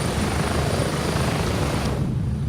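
A helicopter takes off in the video game Gray Zone with a loud, constant rotor and engine drone, and its brighter upper hiss drops away near the end.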